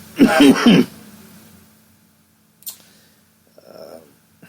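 A burst of throaty coughing up close, followed by quiet with a faint click and a brief rustle.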